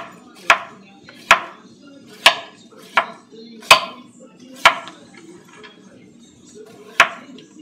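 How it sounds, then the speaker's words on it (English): A knife chops Vidalia onions into thin half rings on a cutting board, giving seven sharp, evenly spaced thwacks close to the listener. Each stroke is loud and stands alone, with short pauses of faint background between them. "I think we're going to have these chopped up fine, and I'm going to actually do these kind of in half ringlets"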